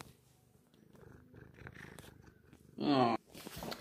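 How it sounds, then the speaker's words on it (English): A pet cat purrs softly up close as a low, steady rumble, then gives one brief, louder cry near the end, with no talking. "this is my cat Laura, who's very excited to see me"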